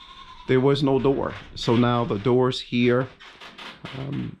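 Goats bleat repeatedly, loud and close, with wavering cries under and between a man's speech near a pigeon loft.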